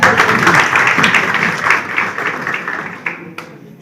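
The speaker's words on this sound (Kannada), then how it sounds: "ಜೋರಾದ ಚಪ್ಪಾಳೆ" Loud applause from an audience at the closing ceremony of a four-day training program for newly selected part-time volunteers, dense clapping that holds steady, then thins out with a few scattered claps near the end.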